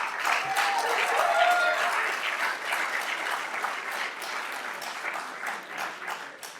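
A large festival audience applauds steadily, a dense wash of clapping that holds at an even level and fades slightly toward the end.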